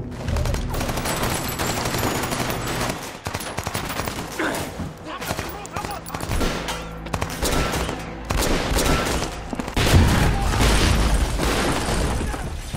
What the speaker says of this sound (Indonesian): Terjadi baku tembak antara mereka